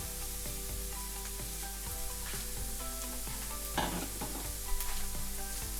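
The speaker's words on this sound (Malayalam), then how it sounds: "ഓയിലിലേക്ക് ഞാൻ കുറച്ച് റോസ്മേരിയാണ് ആഡ് ചെയ്യണം" Rosemary frying in hot oil in a pan for spaghetti Bolognese, a dense, continuous sizzle heard close up, with a few soft stirring scrapes and clinks.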